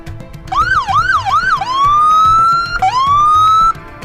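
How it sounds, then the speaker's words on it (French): A Miami police siren wails up and down in quick cycles at night, then switches to long rising sweeps, loud and close with a rumbling engine beneath. "la sirène de la police de Miami perce le silence profond de la nuit"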